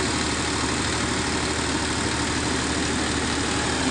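A diesel generator set, just serviced with its diesel filter bled of air, runs at a steady idle, a loud continuous engine drone with no change and no voices.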